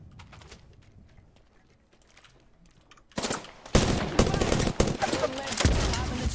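Rapid gunfire in a shooter video game with plenty of ammo, dense bursts bursting in loud and continuous after a quieter stretch, with talk mixed in.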